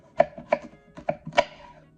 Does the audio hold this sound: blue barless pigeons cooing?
no